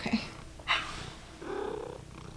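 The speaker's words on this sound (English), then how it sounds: "The cat is telling me that it's bedtime." A pet cat purrs at bedtime, a soft, close, steady rumble running through the quiet, with a few faint rustles.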